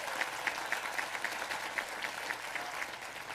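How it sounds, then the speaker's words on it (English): Faint, distant applause from an audience at a university commencement ceremony, a steady wash of clapping that runs evenly without cheers. "Please give all of them a round of applause."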